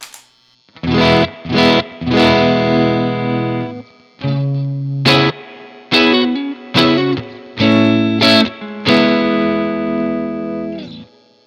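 Electric guitar through a JHS overdrive pedal into a Tweed Deluxe or Vox AC15 plays a series of strummed chords with short pauses between them, gritty and loud.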